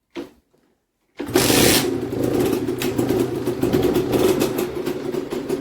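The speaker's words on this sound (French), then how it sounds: "Tu allumes la moto avec un petit coup de cric." A Sherco 50 motorcycle kick-started: a short scuffing kick, a second of quiet, then the small two-stroke engine catches and runs loudly and steadily with a brief rev near the start, nearby and alone.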